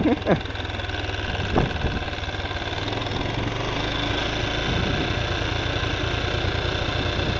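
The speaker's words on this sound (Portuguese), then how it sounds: "A moto apagou, se liguei no tranco." Motorcycle engine idling steadily after a bump start, a close mid-pitched putter with a few sharp knocks at the start, then an even running drone, with brief voices under it.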